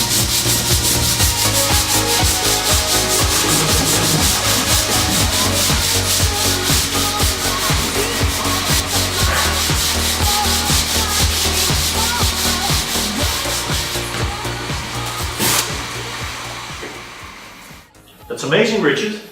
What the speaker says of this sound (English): Important with manual sanding of Maxcut is to use it crosswise to avoid lines